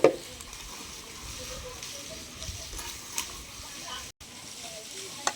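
Tripe (boti) drops into a pan of fried ginger for a gongura curry, starting with a quick burst, then settling into a low, faint, steady sizzle with small crackles.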